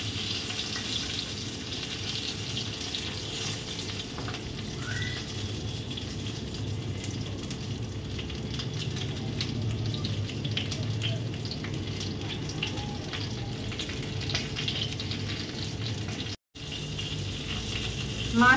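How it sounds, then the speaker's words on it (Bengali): Fish frying in mustard oil in a home kitchen gives a steady, even sizzle that runs almost unbroken, with a brief dropout near the end and a few faint clinks and stirring sounds. "চলো আর একটু হলেই মাছটা ভাজা হয়ে যাবে।"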